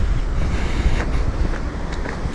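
A light breeze blows along a riverside embankment, producing a steady, loud low rumble of wind buffeting the microphone with faint outdoor background, and no one speaking.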